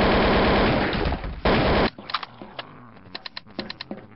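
In the video game Manhunt 2, a loud burst of rapid automatic gunfire rattles for nearly two seconds and then cuts off, leaving a series of sharp dry clicks and taps.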